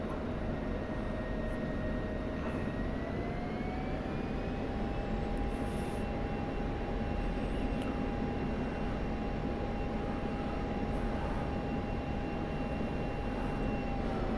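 Steady jet engine drone from a simulated aircraft flying an oval circuit pattern in the DCS flight simulator, a continuous loud roar with a whine that rises slightly in pitch after a few seconds and then holds level throughout.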